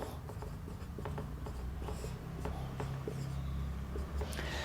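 Pen or pencil scratches across paper in quick short strokes and taps, close and soft, while working a maths problem, with a low steady room hum beneath and no speech.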